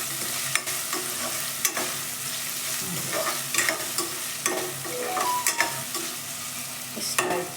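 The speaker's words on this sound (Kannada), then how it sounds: "ಒಗ್ಗರಣೆ" Spices temper in hot oil for curd sambar, a continuous crackling sizzle broken by repeated sharp clicks and scrapes of stirring, close and with no talk.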